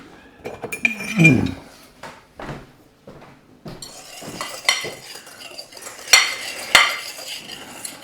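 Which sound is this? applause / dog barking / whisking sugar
whisking sugar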